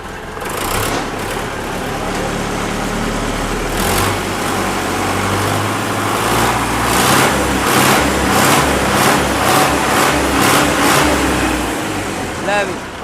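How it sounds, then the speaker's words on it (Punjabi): A loud tractor engine runs continuously, rumbling low and revving in repeated surges, with voices talking over it. "ਇਹਨੂੰ ਸਟਾਰਟ ਕਰਕੇ ਦਿਖਾ ਯਾਰ"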